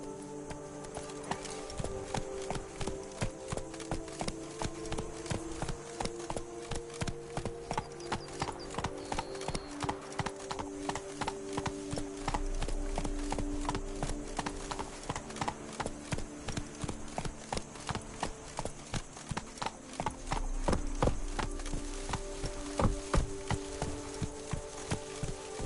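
Hooves of the horse Roach drum in a fast, regular galloping clip-clop through The Witcher 3, loud and continuous for the whole stretch, with occasional heavier thuds and a faint game soundscape underneath.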